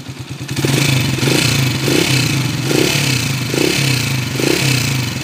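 A Honda TMX155 motorcycle engine awaiting overhaul idles loudly close by, its steady low chug carrying a rough metallic clatter from a worn timing gear, with small rhythmic surges and no talk.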